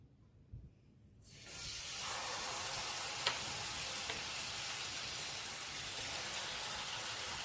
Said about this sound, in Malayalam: ഈ തേങ്ങാപ്പാലിൻ്റെ അരപ്പിലാണ് മീൻ നമ്മൾ പൊരിച്ചെടുക്കാൻ പോകുന്നത്